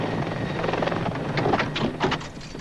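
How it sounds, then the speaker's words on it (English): A medevac helicopter called out for an emergency gives a steady, close rotor thrum and engine whine throughout, with slightly louder pulses near the end and no voices. "When the medevac helicopter is called for an emergency"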